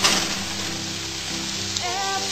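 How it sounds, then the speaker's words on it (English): Onions, peppers and drained canned mushrooms sauté in a hot pan, giving a steady close sizzle and hiss throughout with a brief scrape or stir near the end and no talking. "We're going to start sautéing our onions and peppers. And our drained can of mushrooms."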